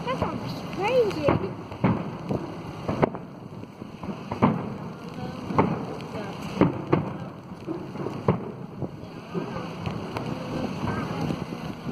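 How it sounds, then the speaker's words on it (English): Steady rain patters down outdoors at a Blackpool fireworks event, with gusts of wind and sharp crackling bursts over it, while people talk throughout. "Rain's coming down now."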